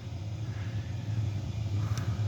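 An 8kW diesel heater burning waste oil runs with a steady low droning hum and fan whir, holding an even level throughout with no talk.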